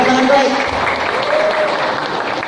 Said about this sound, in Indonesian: Tepuk tangan baik